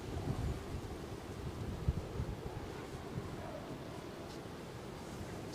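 Strong, sustained wind at Edinburgh Airport: steady low roaring buffeting against the microphone, dense and continuous, with faint rustle and no clear talk.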